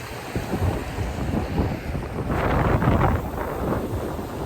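Strong wind buffets the microphone while rough sea waves churn and surge steadily off Saipan, loud and continuous throughout.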